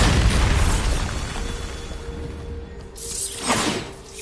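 Bombarda blasting spell going off in Hogwarts Legacy: a loud, rumbling boom that tails off into debris, followed by a second, softer burst with a whooshing swell a few seconds later.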